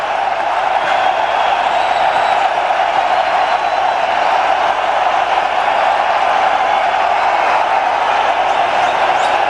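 A cricket crowd in Delhi cheers after India's win over Australia in a one-day international, a steady wash of distant stadium roar and applause that holds at an even level throughout.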